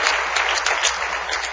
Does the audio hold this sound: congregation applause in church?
yes